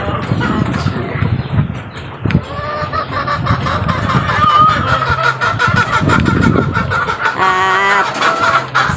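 Chickens and chicks cluck and squawk close by while being fed, in a busy, overlapping chorus, with a few sharper calls standing out near the end.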